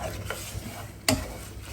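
Marayur jaggery and a little water are stirred as they cook into syrup in a pan, with a soft bubbling sizzle and a couple of scraping spoon strokes over a short stretch.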